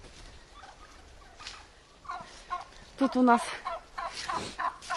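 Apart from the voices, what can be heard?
turkeys gobbling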